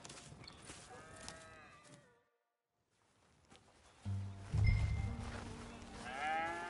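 Cattle low loudly nearby in the video game Red Dead Redemption, a deep drawn-out moo after a pause, with other farm sounds and faint rustling around it.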